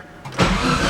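A Nissan RB20DET engine in an S13 car cranks briefly, then catches and fires up, settling into a loud, steady running idle close by.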